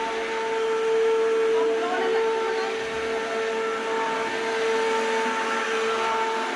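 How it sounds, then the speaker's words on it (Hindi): An electric blender churns curd to make butter at home, putting out a steady, fairly quiet motor whine with a faint tonal hum that runs unbroken throughout. "अब ब्लेंडर निकाल कर इसे चला लेती हूँ"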